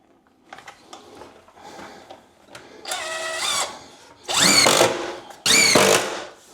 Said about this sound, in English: So what I'm gonna do now is just put these two together, then screw them into the studs.